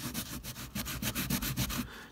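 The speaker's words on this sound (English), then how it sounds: "take a piece of kitchen towel, and we want to rub as much of that off as possible" Kitchen towel rubbing paint off OO gauge model railway cobbles: a steady run of close, brisk scrubbing strokes, about a dozen in quick rhythm, alone with no talk.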